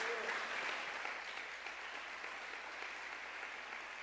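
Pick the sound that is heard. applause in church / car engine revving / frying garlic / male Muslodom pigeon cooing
applause in church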